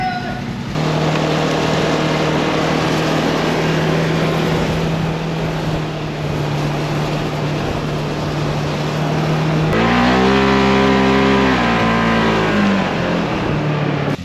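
A 2022 Polaris General XP 1000 Deluxe UTV engine drones steadily and loudly while driving on a snowy trail, holding a constant pitch before revving up and shifting near the end, with faint voices under the noise.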